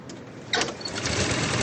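An early Edwardian-era car engine catches and settles into a steady, rapid mechanical clatter, loud and close, running alone.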